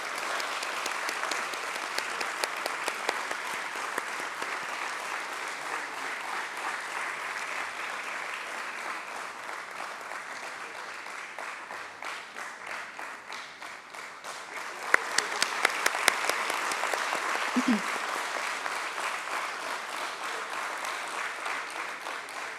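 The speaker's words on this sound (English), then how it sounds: "Let's have a huge round of applause, ladies and gentlemen." Audience at a stock exchange listing ceremony for Prudent Corporate Advisory Services at BSE claps continuously for over twenty seconds, a dense steady applause that swells slightly near the end.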